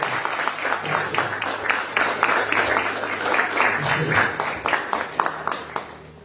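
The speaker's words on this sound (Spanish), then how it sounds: "Adora al Señor con un aplauso fuerte a Jesús." A church congregation claps loudly and steadily in praise, a dense, close crowd applause running for several seconds, with a voice and some cheers mixed in and the clapping thinning toward the end.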